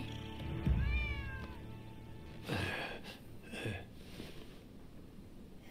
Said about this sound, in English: Who'd have thought the stray cat would wander in?